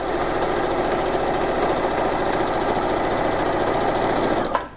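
A sewing machine stitches steadily through a bean-filled weighted quilted blanket, a continuous close mechanical whir with rapid rhythmic needle pulses, ending in a brief thump as it stops.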